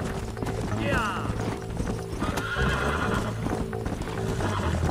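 A horse whinnies over steady clip-clopping hooves and mechanical clatter in the video game Red Dead Redemption, close and loud. Other game sounds fill the background, and a voice talks underneath.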